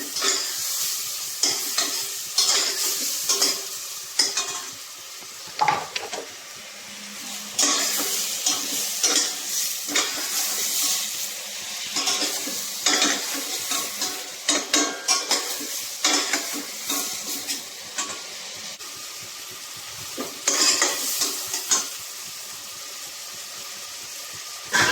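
Prawns fry with tomato and green chili in a pan, a steady sizzle under repeated scraping and stirring strokes of a spatula against the pan, close up and continuous throughout.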